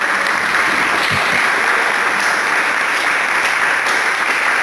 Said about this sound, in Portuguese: aplauda essa palavra do Senhor